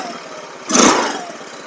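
A cheap $300 buggy engine idling after an exhaust valve adjustment, running with a steady low hum that swells into a brief louder surge midway before settling back.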